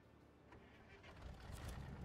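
A truck engine starts up in an off-road truck video game, a faint rumbling crank that swells into a louder, rougher running engine over two seconds.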